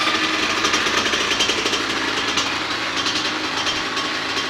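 A rebuilt Kawasaki KX80 dirt bike engine runs close by, a loud, continuous buzzing two-stroke drone with a fast, rattly pulse that holds steady throughout.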